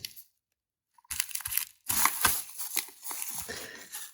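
A gamepad from AliExpress is pulled out of bubble wrap and tape at close range, with bursts of crinkling plastic and tearing after a brief quiet pause.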